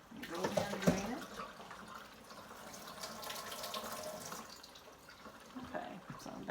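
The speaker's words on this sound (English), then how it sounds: "I put 2 bunches in this bowl of water, which I am going to drain." Water being drained from a bowl that held bunches of fresh produce, a steady splashing pour with a louder gush at the start, heard up close in a home kitchen.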